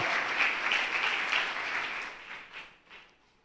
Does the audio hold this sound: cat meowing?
no